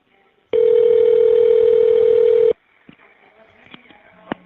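A jail call system places a call: one loud steady tone lasts about two seconds, then stops, followed by faint clicks and short dialing tones.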